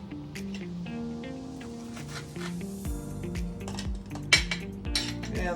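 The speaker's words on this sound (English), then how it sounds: "So there is the sausage, and I'm going to cut it in half." A knife slices a sausage in half on a plate during German home cooking, giving light clinks and scrapes of cutlery against dishware over a steady musical background.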